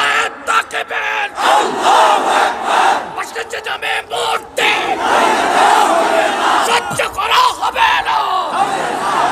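Large outdoor crowd at a political rally roaring a collective chant in reply to a leader's call, loud and sustained with overlapping yells swelling in waves across the whole stretch.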